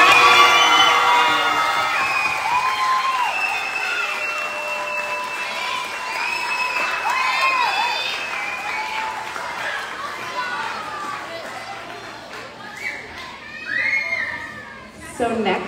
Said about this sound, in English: please join us again in a round of applause for this very fine group of students.